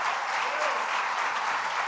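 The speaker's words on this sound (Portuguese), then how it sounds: "Gostaria que a igreja desse um aplauso a Jesus." Church congregation applauding during a Sunday celebration service, a thick, continuous wash of many hands clapping filling the room evenly from start to finish.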